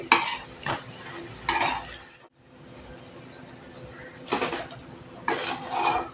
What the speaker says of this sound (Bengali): দুটো তিনটে করে করে পাঁপড়গুলো ভেজে নিচ্ছি।